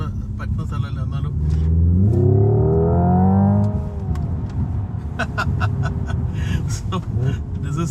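A Hyundai Ioniq 5 N electric car accelerates under normal throttle, its rising synthetic engine tone climbing over several seconds before fading into road rumble, while someone talks throughout.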